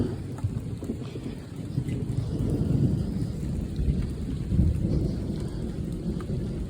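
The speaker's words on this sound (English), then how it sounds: "It's raining out here." Steady rain falls outdoors with low rumbling thunder rolling underneath, a dense continuous wash of drops and deep booms, with no voices.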